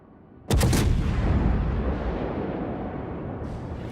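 Naval gunfire in World of Warships, a sudden loud cannon boom that bursts in after a quiet moment, then a long rumbling roar that slowly fades, with no talking.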